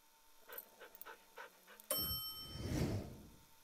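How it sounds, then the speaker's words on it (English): A dog in a video game pants in quick, rhythmic breaths, then a bright chime rings out and a louder, noisy swell follows. "This is a dog. The dog is in the kitchen."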